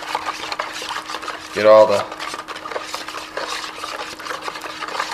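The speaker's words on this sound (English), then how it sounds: "Get yourself a spoon. And then stir it really nice and well." A spoon stirring homemade fish bait mixed with olive oil in a container, giving steady scraping and swishing scrapes, with a brief voice speaking partway through.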